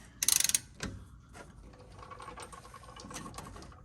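Hand tools clicking and ratcheting on the rear brake bolts of a 2015 Chevrolet Silverado: a quick burst of ratchet clicks up front, then scattered metallic clanks and tool handling.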